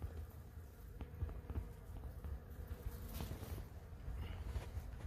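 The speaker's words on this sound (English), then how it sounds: "There's tons of bees on this." Bees buzz faintly among Pride of Madeira flowers outdoors, a soft, low drone with scattered light rustles and taps, no one speaking.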